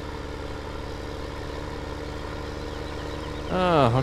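A cultivating tractor in Farming Simulator 17 drones at a steady low idle for several seconds, then a brief swooping higher tone rises and falls over the engine near the end.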